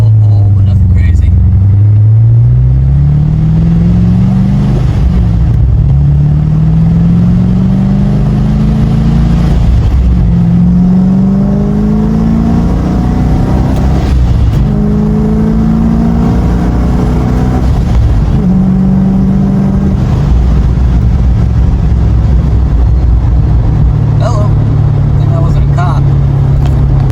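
A Ford F100 pickup truck running on E fuel pulls hard under acceleration, its engine note climbing repeatedly through several gear shifts, loud and close, with someone talking over it.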